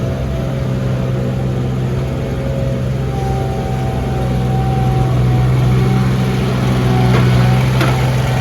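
A Bobcat AT450 loader engine runs steadily during a barn clean-out, a loud continuous low drone with a constant hum and no talking.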